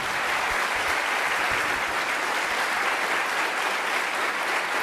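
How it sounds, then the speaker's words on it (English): A studio audience at a televised political debate claps hands steadily and loudly, a thick continuous wash of applause with no voices. "the people present there were clapping hands. You can hear the loudness of the hands."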